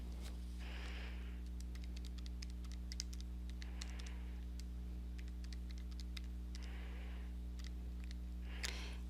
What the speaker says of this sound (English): And I'm going to type everything up here.